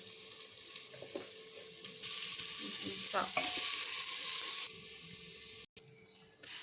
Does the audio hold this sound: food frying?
yes